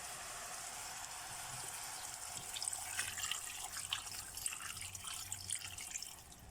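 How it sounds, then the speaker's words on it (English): Water pours steadily into a pot of browned meat and shrimp for a Nigerian jollof rice stew, a continuous close splashing hiss that grows a little louder midway, with no talking. "So we'll now add our shrimps to it. I will add water."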